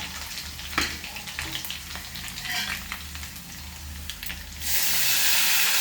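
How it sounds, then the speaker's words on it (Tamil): Onion and horse gram frying in a pan while being stirred, a continuous close sizzle with scraping clatter of the spoon, swelling into a louder hiss near the end. "இது இப்போ நாங்கள் இப்படியே கிண்டி கொண்டிருக்கோம்"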